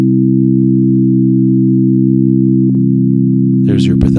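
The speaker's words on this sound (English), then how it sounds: "you will certainly be able to hear it with a sine wave." Two steady pure sine tones sound together as a tuned musical interval, held loud and unchanging for several seconds, with a brief click and a voice starting to talk at the end.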